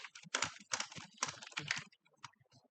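Quick bursts of typing on a computer keyboard, close and clear, a cluster of rapid key clicks, a brief pause, then a few more scattered taps.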